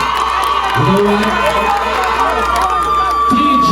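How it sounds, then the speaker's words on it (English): A carnival crowd at a dancehall show at D'acre Carnival 2024 in St. Ann cheers and shouts in a steady, loud roar of many voices. "I want to give DJ a round of applause, like a real round of applause."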